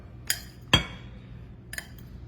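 Metal pie pans clinking as they are handled in a home kitchen: three sharp, close clanks spaced about a second apart, with the middle one the loudest, against a quiet background and no talking.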